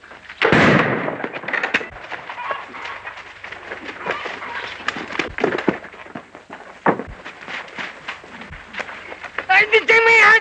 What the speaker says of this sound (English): Turn loose that firecracker